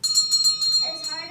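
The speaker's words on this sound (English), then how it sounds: "Then they heard it, the bell." A bright bell rings in several quick, evenly spaced strokes, and a voice starts speaking right after.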